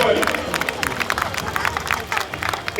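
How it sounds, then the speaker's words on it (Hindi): An audience at a Ram Leela event in Ashok Vihar claps loudly to honour a doctor being presented with a shawl, dense rapid clapping with crowd chatter mixed in throughout. "जोरदार ताली बजाइए"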